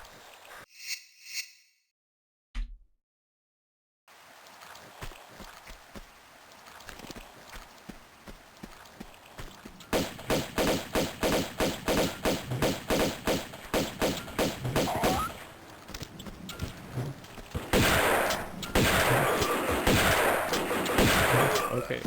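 Gunfire from a gunman in the video game Tomb Raider II, heard as rapid repeated shots that begin after a short silence and grow into dense, fast bursts toward the end.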